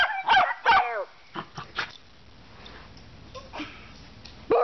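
A dog barks in a few short, close bursts with gaps between, and a voice is heard briefly.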